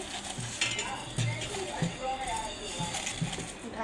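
Sweet raw mango pickle being stirred and mixed in a pot, with repeated soft scraping and knocking of a utensil against the vessel under a steady low hiss, close and moderately loud.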